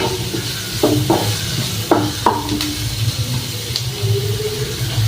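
Onions sauté in a pan for a fish curry in a hostel kitchen, with a low, steady sizzle under a few sharp scrapes and clinks of stirring.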